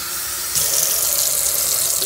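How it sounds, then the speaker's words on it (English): A kitchen tap runs steadily while a cup is filled with water, a close, loud continuous rush that gets brighter and fuller partway through as the flow changes. "Meanwhile, I am going to get a cup of water"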